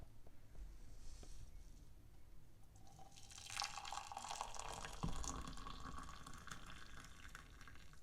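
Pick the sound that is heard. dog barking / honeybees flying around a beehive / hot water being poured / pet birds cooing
hot water being poured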